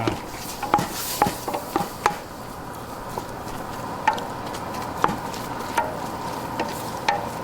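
Ground beef browning in a pan gives a soft continuous sizzle, broken by repeated sharp scrapes and taps of a utensil stirring and breaking up the meat at irregular intervals, close and moderately quiet.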